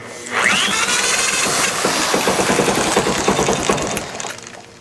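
A 1964 Honda 90 CT200 motorcycle engine cranks and catches, then settles into a loud, close, rapid putt-putting idle that fades slightly near the end.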